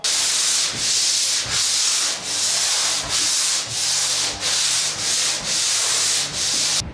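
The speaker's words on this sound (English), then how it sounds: "we can give it a nice light sand using 120 grit sandpaper" Rhythmic back-and-forth hand sanding of a ceiling joint with 120 grit sandpaper, about ten even scraping strokes with brief pauses between them, close and fairly loud.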